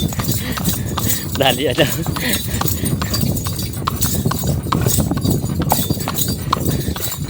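Horse hooves clip-clop steadily on a road as the horse hauls a heavy load of coconuts in Tayabas. The hoofbeats are loud, and people talk over them.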